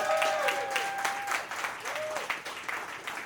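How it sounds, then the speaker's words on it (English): An audience claps for crypto investor Michael Terpin as he is introduced at a speaking event. The applause is loud and sustained, and a voice and some tonal sounds carry over the clapping. "So let me get a round of applause for Mr."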